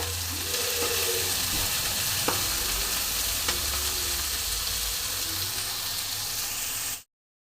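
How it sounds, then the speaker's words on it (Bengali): Chopped onions fry in a wok with a steady close hiss, broken by a few sharp clicks and light scraping of a utensil, before the sound cuts off abruptly. "পেঁয়াজটা আমি একটু মোটামুটি ভেজে নেব"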